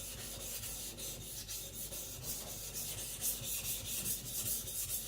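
A high speed steel gyuto knife is ground on a Shapton Glass 220 grit whetstone, with close, quiet, gritty rasping strokes repeating in a steady back-and-forth rhythm.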